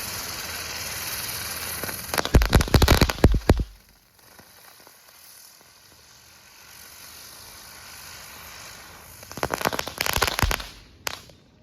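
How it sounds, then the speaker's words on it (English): A King of Spin spinning firework is lit before the 4th of July and goes off in a dense burst of loud crackling pops lasting over a second. A quieter hissing lull follows, then a second crackling burst near the end. "That was a cool firework."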